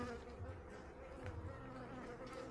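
Honeybees buzz in an open hive, a dense, steady, close drone that continues without a break and without other sounds.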